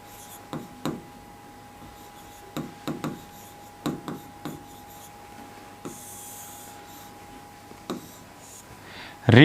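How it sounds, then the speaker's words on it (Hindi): Marker or chalk writing on a classroom board, a series of short scratchy strokes in irregular bursts, close and moderately loud over a steady low hum. "ऊपर लिख लेते हैं यहाँ पर रीट एलिजिबिलिटी"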